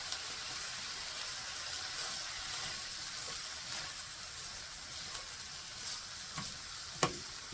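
Cooked rice stirred into ground beef and broccoli frying in a pan, a steady soft sizzle with gentle scraping and stirring throughout, and a couple of sharper utensil taps near the end, close and even.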